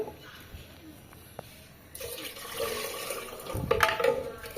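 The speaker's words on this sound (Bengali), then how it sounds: "পানি দিয়ে দিছি" Water is poured into boiled lentils in a pot in a village kitchen, a rushing splash that begins about halfway through and grows louder, following a quieter stretch with faint background noise.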